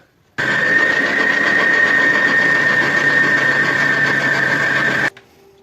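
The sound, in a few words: electric mixer mixing msamen dough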